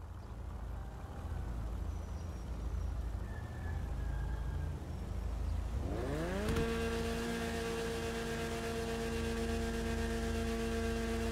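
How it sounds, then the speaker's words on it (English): A Weeny Issi Classic car engine in GTA Online revs up from a low idle hum, rising in pitch and then holding a steady high drone, loud and close with no talk over it. "Let me just rev this car up a little bit for you guys to hear it."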